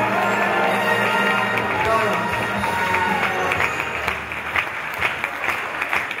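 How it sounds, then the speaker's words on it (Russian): A large audience at a KVN comedy team performance in Tula bursts into sustained, dense applause that continues loudly throughout, with some crowd noise and a voice faintly underneath. "Под ваши бурные аплодисменты."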